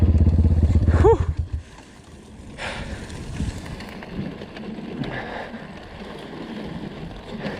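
A Kovi Advance 300 motorcycle engine revs loudly up close for about a second as the rear wheel spins and digs in, then drops away into wind noise and faint rumbling.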